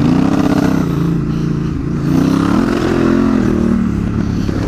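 Honda Africa Twin motorcycle cruising at about 90 km/h, its engine a steady, loud drone with slight pitch shifts throughout, wind rush underneath, no talking.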